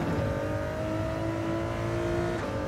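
A high-revving car engine in the Gran Turismo 7 racing game holds a steady, strained whine at high rpm for a couple of seconds, loud and alone without talk.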